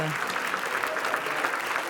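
Steady crowd applause as a film team enters the Grand Théâtre Lumière, a dense, even wash of many hands clapping filling the short stretch without pause.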